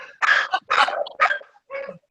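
Several sharp barks from a native mixed-breed street dog come in quick bursts, close and loud, with short gaps between them and no talking.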